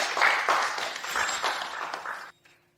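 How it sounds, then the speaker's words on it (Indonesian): An audience applauds a speaker being welcomed to the stage, a loud burst of massed clapping that swells in waves and then cuts off abruptly. "Tolong berikan tepuk tangan untuknya."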